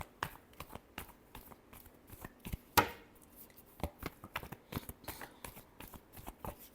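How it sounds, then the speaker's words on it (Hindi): Tarot cards are shuffled by hand close up: quiet, irregular taps and riffles, with one sharper snap partway through, and no talking. "last shuffle"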